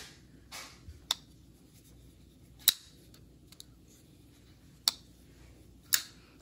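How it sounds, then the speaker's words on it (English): Several sharp, close clicks of a Reich P138-B folding knife snapping shut, spaced irregularly over a quiet background with faint handling noise between them. "This Reich P138-B is the winner because it has a better closing sound too"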